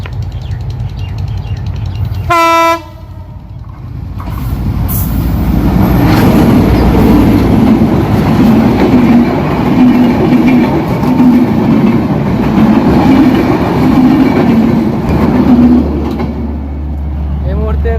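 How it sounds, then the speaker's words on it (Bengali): A train rumbles past in rural North Bengal, filmed from under a tree. A loud, sustained roar and clatter builds and holds for most of the stretch, with a brief horn-like tone early on. "আপনারা দেখতে পাচ্ছেন এই মুহূর্তে একটা ট্রেন আসতেছে।"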